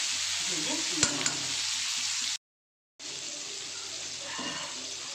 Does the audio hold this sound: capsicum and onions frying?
yes